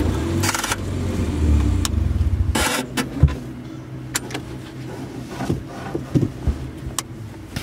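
A car with an EJ22 engine driving along after oil pan and suspension work, its engine note swelling and revving early, then settling into lower running with scattered clunks and rattles from the cabin.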